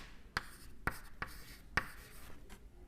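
Chalk or marker strokes on a board during a lecture on thermodynamics: four sharp, separate taps and scratches spaced about half a second apart, close and fairly quiet, with no talking.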